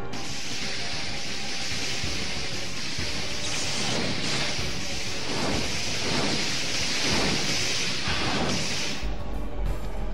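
Crackling, rumbling lightning magic attack in the video game Legend of Dragoon, a loud sustained hissing roar with repeated surging bursts like a thunderstorm, ending with a low thud.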